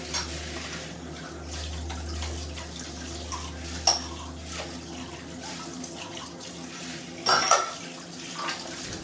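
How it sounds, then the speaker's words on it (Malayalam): Tap water runs steadily into a kitchen sink while dishes are washed. A few sharp clinks of pots and plates cut through the continuous splashing. "പാത്രങ്ങളൊക്കെ ഒന്ന് കഴുകിയിട്ട് എടുക്കുകയാണ്"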